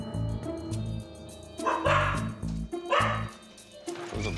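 Several pet dogs in a house yip, bark and whimper in short excited bursts, close and fairly loud, with occasional faint voices in the background.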